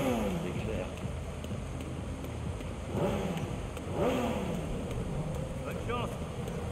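Motorbike engine in the video game Gotham Knights rising and falling in several revving sweeps over a steady background drone, moderately quiet with talk in the clip.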